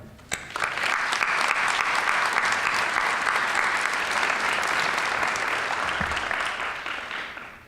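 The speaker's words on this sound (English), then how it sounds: "They all deserve a huge applause." An audience at a high school National Honor Society induction ceremony applauds the inducted students, with sustained, dense clapping that starts sharply and runs evenly for about seven seconds before tapering off at the end.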